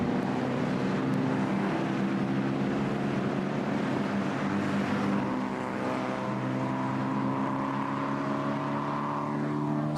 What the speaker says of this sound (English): Cars and drivers coming out now for the 10-lap race.